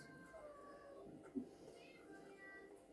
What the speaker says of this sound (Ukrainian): Не нявкай. Ну ти ж не голодний, Томас.